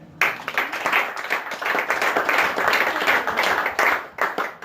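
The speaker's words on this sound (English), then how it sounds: "please give yourself a round of applause for being here today" Audience at a campaign speech gives a brief round of applause, a moderate, fairly close patter of many hands that starts abruptly and tapers near the end.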